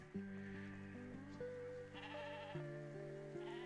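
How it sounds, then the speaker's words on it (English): A video game sheep gives a wavering, tonal bleat that shifts pitch over a few seconds, clear and close beneath a faint background hum. "We got the sheep."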